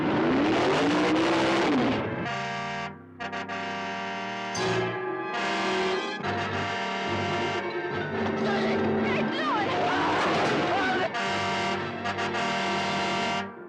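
A car engine revs and roars with rising and falling pitch, loud and close, layered with dramatic effects and music in a horror film trailer about a possessed car.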